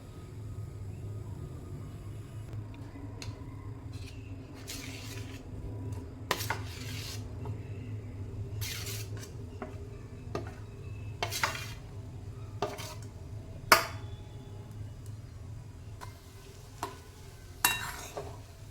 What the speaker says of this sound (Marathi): आता याच्यामध्ये आपण बटाटा आणि ठेच्याचं मिश्रण घालणार आहोत